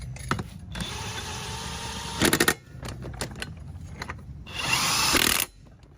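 Impact wrench driving 14 mm nuts snug on a Polaris ATV axle, several short buzzing bursts close by in a garage, with a longer final burst.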